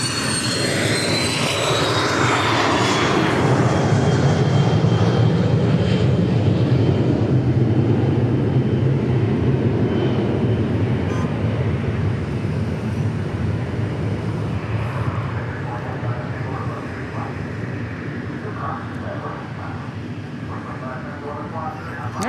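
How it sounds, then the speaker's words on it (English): An Embraer Phenom 300 business jet at Dallas Love Field gives off a loud, broad engine roar with a high whine sliding downward early on, easing slightly later, while people talk nearby. "So this is Phenom 300 Embraer."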